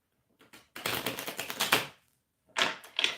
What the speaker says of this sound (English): let me just do a quick shuffle real quick